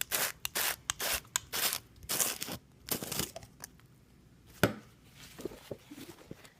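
Plastic lid of a Chill Factor ice cream maker being pried and pulled off by hand, a series of close, sharp clicks, scrapes and rubbing snaps in uneven bursts, then quieter handling sounds.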